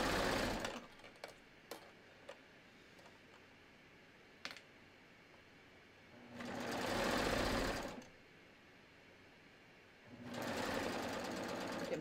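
A serger overlocker runs along a T-shirt seam in two sustained whirring bursts of about a second and a half each, separated by quiet handling clicks and fabric shuffling, close and moderately loud.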